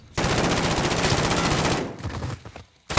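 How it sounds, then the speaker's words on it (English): Rapid automatic gunfire in a competitive shooter video game scrim, a dense sustained burst of shots lasting nearly two seconds, then sparser fire tapering off before a final sharp shot. "I think he was literally just shooting at nothing"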